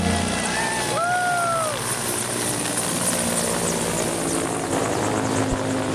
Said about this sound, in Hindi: अभी दूसरा हेलीकॉप्टर उड़ने वाला है